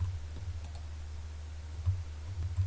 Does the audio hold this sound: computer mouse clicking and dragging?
yes